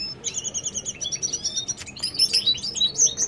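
A goldfinch chirps at its nest: a quick run of bright, high tweets repeating in short bursts, close and clear over a faint background.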